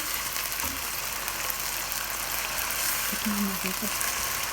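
Chicken pieces frying in a pan for chicken fried rice, a steady broadband sizzle running throughout with faint low murmur of a voice and a brief stir near the end.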